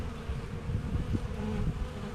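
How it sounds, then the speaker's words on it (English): Honeybees swarm around the landing board at a hive entrance, a steady close buzzing drone of many wings that holds without a break. "you have lots of bees coming and going, and they're bringing back pollen"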